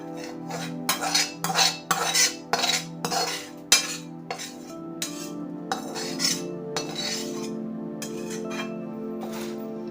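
A metal spoon stirs spices into fried corn poha chivda in a pan, with quick clinking and scraping strokes that start busy and close, then thin out into softer occasional taps over a steady hum.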